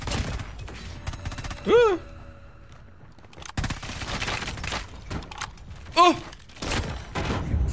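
Gunfire from a weapon in the Call of Duty Mobile multiplayer video game: scattered bursts of shots through a busy match, with excited shouts and game sounds overlapping the firing.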